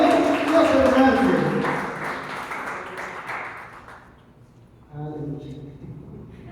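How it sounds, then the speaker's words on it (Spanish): A church congregation at a Venezuelan apostolic youth service claps in a burst of applause that fades away after a few seconds, followed by someone speaking. "Damos un aplauso"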